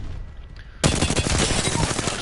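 A rapid burst of automatic gunfire in a video game, fired at a practice bot, starts abruptly after a quiet moment and continues as a loud, dense rattle to the end.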